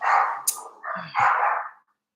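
A neighbour's dog in an apartment building barks in a few sharp, close bursts, agitated at the scent of another dog from the hallway, then falls quiet.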